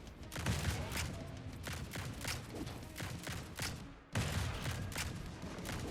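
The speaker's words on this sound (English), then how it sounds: "My gun firing sounds like We Will Rock You." A gun firing nonstop in the video game Grind Survivors: a dense, loud barrage of rapid shots with thumping bass hits in a steady rhythm, briefly dipping before resuming at full force.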